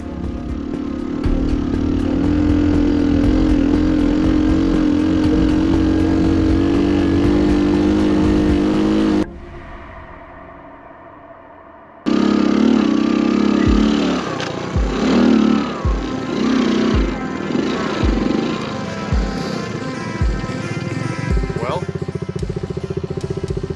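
A Honda CT90 motorcycle revs hard while struggling through mud, a loud sustained engine roar that cuts out briefly, then returns with choppier revving and splashing sounds.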